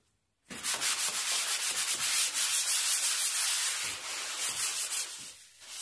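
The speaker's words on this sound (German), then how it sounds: "So, nachdem er nun geschliffen ist" Sanding a small Italian wooden secretary desk, a steady hissing scrape of abrasive on wood with rhythmic back-and-forth strokes, close and continuous after an abrupt start, no talking.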